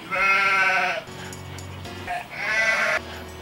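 A person imitates a goat with two loud, drawn-out bleats, the first longer, separated by a short pause and a low murmur.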